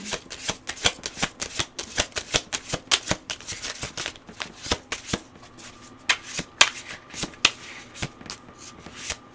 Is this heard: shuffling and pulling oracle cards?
yes